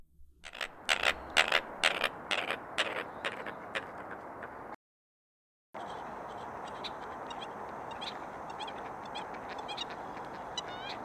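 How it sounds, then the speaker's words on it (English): A run of loud, rhythmic honking squawks from a wetland bird, then a steadier chorus of squeaks and chattering calls continuing after a short gap. "it makes a pretty wide variety of chicken-like sounds and squeaks and squawks"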